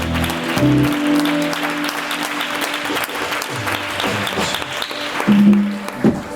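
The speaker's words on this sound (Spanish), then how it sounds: "Ven, fuerte el aplauso para el Señor." A church congregation claps steadily for about six seconds, dense and fairly loud, with faint sustained tones and a few brief voice sounds underneath.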